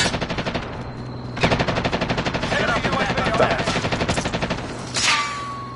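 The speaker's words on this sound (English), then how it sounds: "I'm trying to figure out where these shots coming from." Call of Duty: Warzone gunfire: loud rapid bursts of automatic fire rattling in fast repeated volleys, with a sharp single shot near the end, no voices over it.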